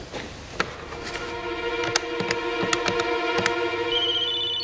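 An electronic phone tone rings in short repeated pulses at a hospital, with a steady high chirping hum running underneath throughout.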